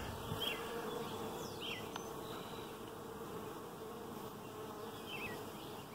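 Honey bees buzz around hives in an outdoor bee yard, a soft continuous hum with individual bees zipping close past now and then.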